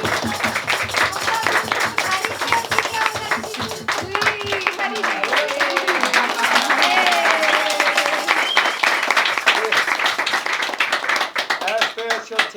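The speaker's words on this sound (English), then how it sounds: "On peut applaudir Valentine aussi" Audience at a collective program event in Tours, France clapping steadily throughout, dense and close, with music and voices mixed in underneath.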